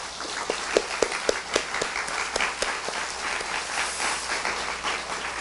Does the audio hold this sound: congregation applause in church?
yes